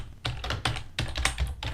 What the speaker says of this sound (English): Just type need rotations.